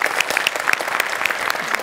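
Audience applause at a Marathi comedy stage show, steady clapping from a crowd that fills the moment evenly from start to finish with no pauses.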